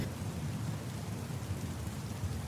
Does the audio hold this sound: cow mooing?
no